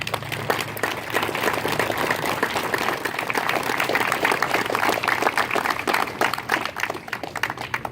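Audience applause at a Bicentennial Torch Relay gathering honoring Kosciusko County residents, a sustained burst of many hands clapping, loud and close, lasting the whole stretch without speech.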